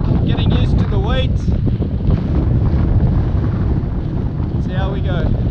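Strong wind roars and buffets the microphone of a bicycle rider on a loaded touring bike in Spain, loud and continuous, with faint whistling tones rising briefly over the rush.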